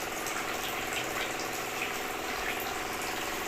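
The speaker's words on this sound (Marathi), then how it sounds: "ही मोटर आहे आणि खूप स्पीडनं पाणी फिरते" A small electric water pump inside a homemade oil-tin mini cooler churns water with a steady, continuous gushing hiss, close and constant with no pauses.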